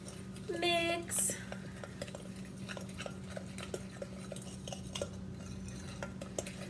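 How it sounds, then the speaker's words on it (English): Blueberry muffin batter being mixed with a fork in a bowl, light repeated ticking and scraping strokes against the bowl under a quiet background, with a couple of brief louder clinks early on. "I'm just going to use a fork. And we are going to mix up our batter."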